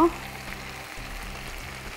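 Cumin frying in oil in a pan of dried-chilli rohu fish curry gives a steady, soft sizzle with a low hum underneath, continuous for two seconds.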